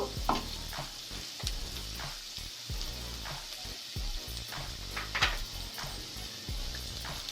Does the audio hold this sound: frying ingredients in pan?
yes